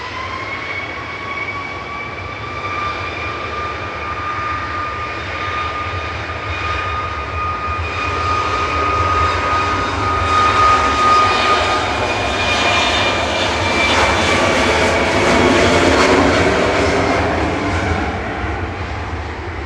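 Passenger jet airliner at Manchester Airport, a steady loud engine roar with whining tones that swells and grows nearer midway, then holds at full strength to the end, with no voices.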